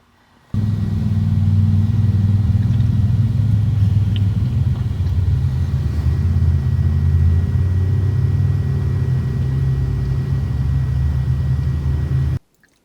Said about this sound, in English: they're going to be driving all night in their Jeeps and their 4x4s and their off-road vehicles